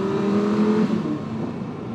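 An Audi R8's 5.2-litre V10 revs loudly and close by, a sustained engine note that rises, then drops away into a rougher rumble over two seconds.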